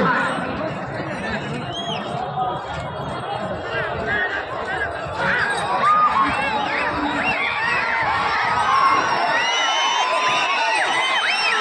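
Crowd at a bullock cart pulling contest cheering and shouting, a loud mass of voices that swells toward the end, with an announcer talking over it.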